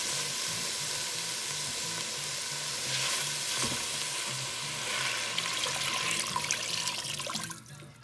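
A pan of tomatoes sizzles and fries steadily; the hiss swells as water is poured in, then crackles on loudly before fading near the end.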